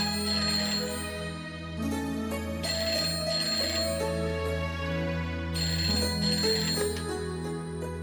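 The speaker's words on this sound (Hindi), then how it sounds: "इतनी रात किसका फोन आ गया?" An electronic phone ringtone plays steadily, a bright repeating melodic tone over a low hum, loud and alone without any voices.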